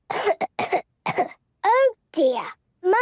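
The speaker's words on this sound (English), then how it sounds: "Monkey has a bad cough." A cartoon child coughs several times in short bursts, close and clear, with a voice squealing and chattering between the coughs.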